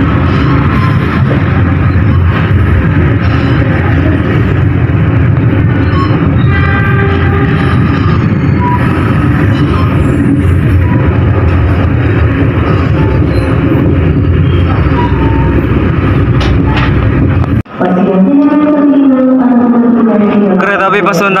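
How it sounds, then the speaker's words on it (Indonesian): Argo Wilis passenger train bound for Bandung passing close by on the adjacent track, a loud sustained roar and rumble of rail cars that cuts off abruptly near the end, with voices talking in the background. "Kita berpapasan dengan kereta api Argo Wilis tujuan akhir stasiun Bandung."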